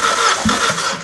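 The 1.8-litre Z18XE engine of a 2004 Opel Zafira A cranks steadily on the starter during a compression test, loud and close, with a rhythmic churning drone.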